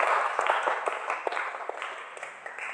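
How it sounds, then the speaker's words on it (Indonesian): Students in a metal welding and fabrication classroom clap together after the teacher calls for it, a dense burst of sharp hand claps that fills the room and fades gradually over a few seconds. "tepuk tangan buat kita semua."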